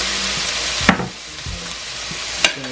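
Chopped garlic hits hot oil in a pan with a sharp burst of sizzling, followed by a few clunks as it is stirred around, with a softer fry continuing underneath.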